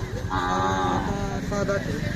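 A Kajali Khillar bull or cow gives a single drawn-out moo, close and loud, lasting most of the moment against faint outdoor background from a cattle fair.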